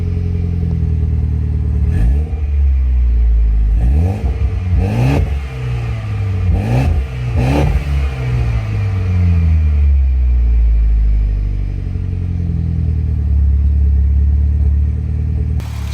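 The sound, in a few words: Mitsubishi Evo X MR engine running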